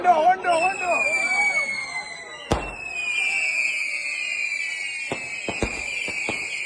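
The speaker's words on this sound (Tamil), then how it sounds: "பட்டாசு எல்லாம் போய் கொண்டிருக்குது." Fireworks and firecrackers going off at a Hindu temple festival, a loud sharp bang followed by a cluster of cracks, with whistling rockets trailing overhead and crowd voices in the background.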